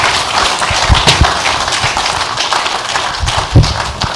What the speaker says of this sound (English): Please give our distinguished sons a round of applause.